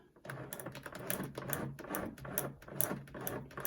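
A Midi sewing machine stitches fabric in a quick run of close, rapid clicking pulses that comes in short uneven bursts. The machine sounds quiet and near, with no talking.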